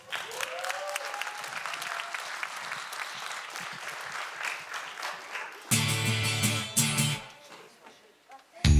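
Audience applause at a New Year's concert in Spāre welcomes a singer to the stage, a steady mid-distance clapping that fills most of the stretch before a louder musical burst cuts in near the end.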